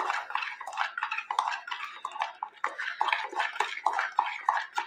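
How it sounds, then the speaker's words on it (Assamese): A spoon stirring batter with baking powder and baking soda in a bowl, a quick rhythmic run of close clinks and wet scraping strokes, with no talk. "ইয়াতে ভালদৰে মিলাই লওঁ।"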